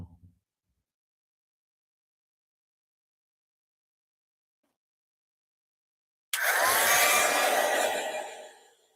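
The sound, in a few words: heat gun heat-setting embossing powder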